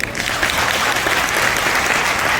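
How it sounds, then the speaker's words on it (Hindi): A crowd claps steadily for newly joined guests at a company gathering, the dense applause sustained and even throughout with no talk over it. "एक बार इन नए मेहमानों के लिए ताली चाहता हूं।"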